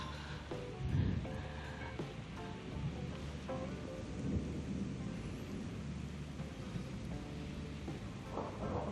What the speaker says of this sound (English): it's thundering and lightning.